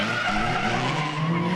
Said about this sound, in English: both cars have spun, allowing the chase driver to overtake